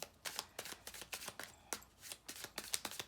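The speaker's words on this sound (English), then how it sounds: "Last shuffle, then I take from the middle, Ace of Swords." Tarot cards being shuffled in a quick run of crisp riffling bursts with short pauses between them, close and fairly quiet, with nobody speaking.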